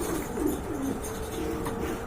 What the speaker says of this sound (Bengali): অনেক লম্বা সাইজের কবুতর।